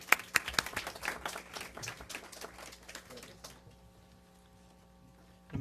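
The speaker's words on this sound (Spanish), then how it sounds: "con un fuerte aplauso al doctor Héctor Guillermo Alfaro López" Audience applause at an academic panel session, a burst of many hands clapping that thins out and fades over a few seconds into a quiet room.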